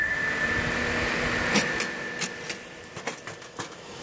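A battery-powered 12-volt cooler fan runs with a steady, faint whirring drone, joined by scattered light clicks and taps toward the end.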